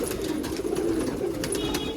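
Flock of pigeons cooing at a gathering of fancy breeds, soft overlapping low coos with wing flutters and clicks, close and continuous.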